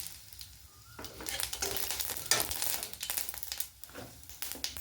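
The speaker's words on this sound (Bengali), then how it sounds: "এবার ওই তেলের মধ্যে একটু শুকনো লঙ্কা আর সর্ষে ফোড়ন দিয়ে দেবো" Dried chillies and mustard seeds hit hot oil that was just used to fry fish for a mango prawn jhol cooked in a village, a sudden crackling sizzle that flares and sputters in bursts, fairly close.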